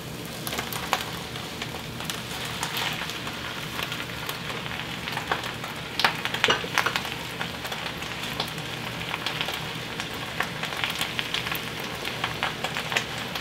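Baby spinach frying in a pan with oil, garlic and ginger, a steady dense crackling hiss with tiny pops throughout, close and even, no voices.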